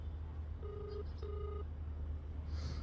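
Ringback tone from a phone call to a J&T delivery rider, two steady beeps in a row with a short gap between them, heard alone over a low background hum.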